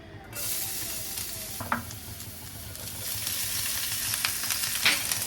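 Garlic and chili sizzle in hot mustard oil in a home kitchen pan, a steady close frying hiss with occasional scraping stirs and small pops, no talking over it.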